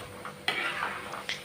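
Goli baje batter frying in oil, a soft bubbling sizzle broken by a few short scraping stirs of a utensil in the pan, close and fairly quiet.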